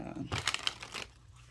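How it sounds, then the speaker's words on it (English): Tarot cards being shuffled by hand, a quick burst of papery riffling and crinkling lasting under a second, close and fairly soft, with a faint voice in the background. "Let me go ahead and give that a shuffle since I had to step away."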